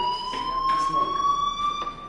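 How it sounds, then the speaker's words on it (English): A fire alarm from a video game rings in a steady, piercing electronic tone with a slowly rising pitch, overlaid by short bursts of rattling, fairly loud and continuous. "Hey, do you hear that fire alarm? That means you should be outside."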